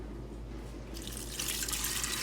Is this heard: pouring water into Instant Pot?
yes